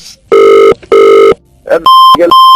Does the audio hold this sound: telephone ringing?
yes